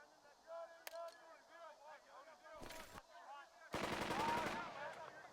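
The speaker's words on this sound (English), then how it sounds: "We're taking fire!" Gunfire in the war strategy game Burden of Command: bursts of rapid machine-gun shots crackle over a clamor of voices, with a sharp single shot and a heavier sustained volley near the end, fairly close and dense.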